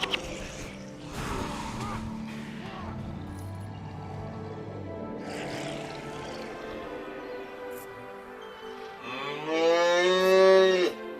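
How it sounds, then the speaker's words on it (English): A cow in the Guild Wars video game lets out a long, loud, drawn-out moo near the end, after quieter ambient game sounds and shifting background noise. "Thank you for the moo."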